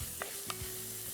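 Garlic sautés in a pan with a steady frying hiss and two short scrapes of a spatula, close up and brief, with a low hum underneath.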